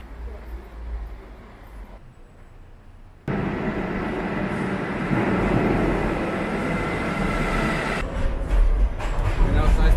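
A train on the Budapest underground, one of the oldest metro lines in the world, rumbles past. The sound starts as a low hum, jumps into a loud, steady rolling roar and then grows heavier, while people talk faintly underneath.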